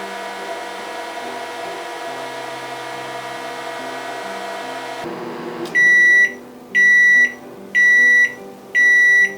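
A microwave oven hums steadily as it runs, then stops, and four evenly spaced, loud electronic beeps sound to mark the end of cooking.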